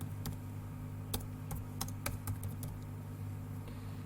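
Rapid, uneven keystrokes on a computer keyboard as a postal code and address are typed, close clicks scattered over a steady low electrical hum.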